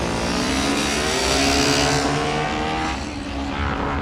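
A hill climb truck powered by a Hayabusa motorcycle engine screams at high revs, loud and sustained as it accelerates up the course, easing slightly toward the end.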